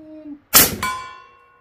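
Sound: Western Rattler .357 air gun shot hitting steel target

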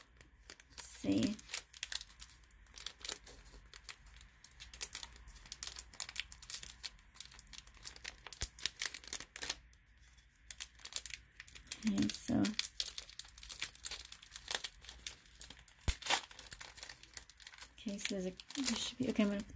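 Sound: cutting open and unwrapping a Pokémon card pack

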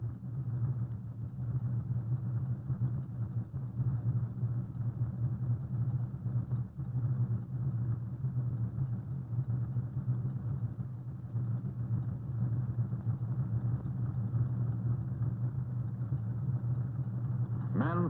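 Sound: fleet of concrete mixer trucks moving along road forms

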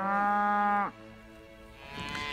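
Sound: longhorn cattle mooing on a ranch

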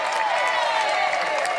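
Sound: crowd applause at a groundbreaking ceremony

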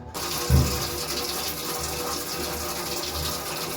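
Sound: water running from a tap while washing dishes

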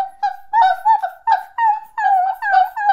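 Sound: voice imitating a puppy whimpering

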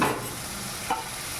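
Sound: ground sesame paste frying with eggs

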